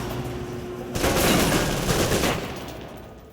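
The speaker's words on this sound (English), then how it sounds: "the SMGs can help clear the room quickly. Not subtle or quiet" Submachine gun fire in Alpha Protocol, a loud sustained burst of rapid shots lasting over a second before tailing off, with quieter background sound before it.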